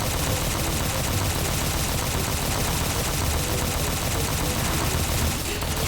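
Sustained dense gunfire from mounted turrets in the video game Halo 4, a continuous loud rattle of rapid shots filling the whole stretch with no clear pauses.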